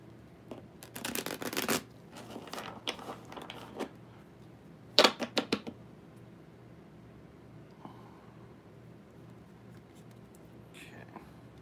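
A deck of playing cards riffle-shuffled at a table, giving several quick, crisp bursts of flapping card edges with pauses between, over a quiet background.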